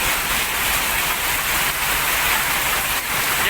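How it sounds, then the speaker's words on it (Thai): Heavy rain pours down on a flooded street in the Huai Khwang district of Bangkok, a dense, loud, unbroken hiss of downpour that fills the whole stretch, with no voices. "ฝนตกแรงมากครับตอนนี้ครับ"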